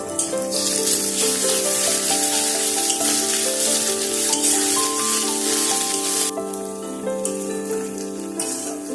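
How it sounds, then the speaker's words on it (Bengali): Chopped ginger and green chili fry in hot oil for broken wheat pulao, a continuous sizzling hiss running under prominent background music. "এখন এর মধ্যে দিয়ে দিচ্ছি আদা কুচি আর লঙ্কা কুচি। এগুলোকেও তেলের মধ্যে একটু ভালো করে ভেজে নেব।"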